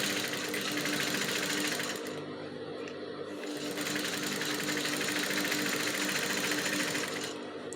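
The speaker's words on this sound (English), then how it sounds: "I'm going to be sewing." A sewing machine stitches a seam on a pleated maxi kaftan dress. Its close, rapid mechanical whirr runs steadily, stops briefly for about a second, then resumes and runs to the end.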